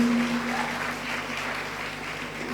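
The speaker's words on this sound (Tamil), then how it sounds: "Anna Zohra கைதட்டுங்க please" Applause from an audience at a Nagarathar community gathering in Tamil Nadu, a steady wash of clapping filling the whole stretch at a moderate level, with a faint hum underneath and no voices on top.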